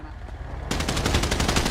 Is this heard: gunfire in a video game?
yes